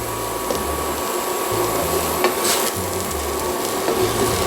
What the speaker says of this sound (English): we're going to sprinkle in some flour and mix that around so we don't get too many lumps